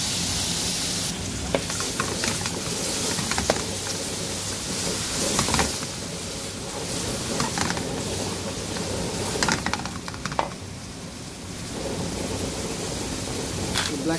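Vegetables sizzle and crackle steadily in a hot pan for couscous, a continuous dense frying hiss with occasional stirring clicks throughout.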